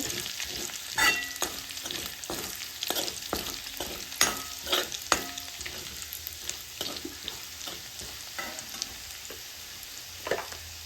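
Filling for a paneer frankie fries in a pan until golden brown, a continuous sizzle broken by frequent sharp scraping and clinking stirring strokes.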